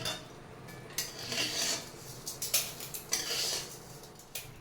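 Fried Gobindobhog rice scooped out of a pan, with scattered metallic clinks, taps and scrapes of a spoon against the pan, fairly close and unhurried, with no voices.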